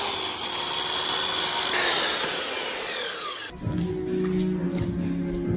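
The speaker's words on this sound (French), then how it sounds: "je vais couper les entretoises tous les 40 cm" Power saw cutting wooden spacers during a mezzanine renovation, a loud continuous whining rasp through the wood for about three and a half seconds, then stopping abruptly into quieter knocks and handling noise.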